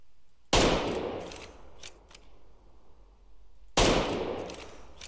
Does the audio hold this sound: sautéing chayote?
no